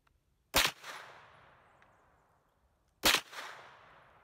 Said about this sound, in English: I'm going to shoot 2 shots to get a group